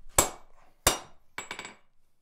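A forge hammer strikes hot metal stock to cut it off: two sharp ringing blows, then a quick cluster of lighter taps, close and loud in a quiet shop.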